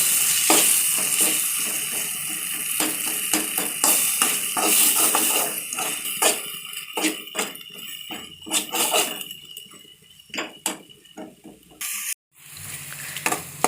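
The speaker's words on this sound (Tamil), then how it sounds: "போட்டு நல்லா வதக்கிட்டே இருங்க அந்த இஞ்சி பூண்டு பேஸ்ட்டோட பச்சை வாசனை போகிற வரைக்கும் நல்லா வதக்குங்க" Ginger garlic paste sautéing in a pan for pepper chicken curry, a steady loud sizzle broken by repeated scraping stirs, briefly cut near the end then resuming.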